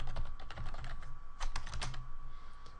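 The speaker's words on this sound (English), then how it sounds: "here I'm going to type in Wafting Tutorials this time" Keys clatter on a computer keyboard as text is entered into Notepad, a quick uneven run of close clicks with a few louder bursts, steady faint hum beneath and no one speaking.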